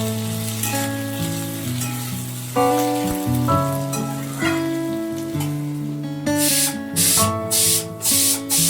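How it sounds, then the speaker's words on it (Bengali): Potatoes fry in a wok of hot oil with tempering spices, a steady hiss running under loud melodic music, with sharper bursts of sizzling near the end. "মা কড়াইতে একেবারে ফোড়ন দিয়ে আলুটা ভাজা বসিয়ে দিয়েছে"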